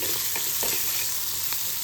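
Green chili mixture sizzling and frying in a pan while being stirred, a steady hiss with a few soft scraping strokes of the spoon, close and alone.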